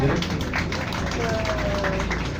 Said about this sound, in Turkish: arkadaşlar bir alkış alabilir miyim lütfen